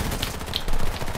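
Rapid video-game gunfire crackles in a dense burst just over a second long, loud and close, with no speech over it.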